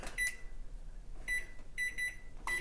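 A microwave oven's keypad gives several short, high electronic beeps, one or two at a time across a couple of seconds, quiet and close in a kitchen, with no talking.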